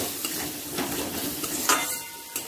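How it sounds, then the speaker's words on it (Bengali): A spoon stirs ginger garlic paste and Kashmiri chilli powder into onions frying in oil, with steady sizzling, scraping strokes and a few light clinks of utensil against the pan. "দিয়ে দিচ্ছি 1 চামচ আদা রসুন বাটা। ভালো করে পেঁয়াজের সাথে মিশিয়ে নেব।"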